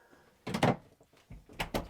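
Cabinet doors in the bathroom of a 2003 Newmar Kountry Star 3352 RV open and close close by, giving a few quick thumps and knocks in two short clusters with no talk.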